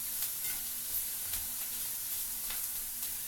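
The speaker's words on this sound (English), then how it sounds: "We have peppers, pork, ham, all with some onion in here, cooking up in our skillet. We're cooking it high." Peppers, pork and ham with onion sizzle steadily over high heat in a skillet, a constant close hiss with small crackles and no talking.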